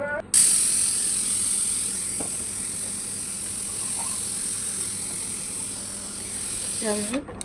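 Steam hissing steadily from a pressure cooker with its whistle lifted while meat cooks, a loud continuous hiss lasting several seconds with small clicks, and speech at the end.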